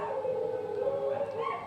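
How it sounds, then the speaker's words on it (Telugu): Dogs howl continuously at night in a sustained, wavering drone of overlapping voices, moderately loud and slightly distant, with no talk over them. "సో చూసారా, కుక్కలు అరుస్తున్నాయి కదా."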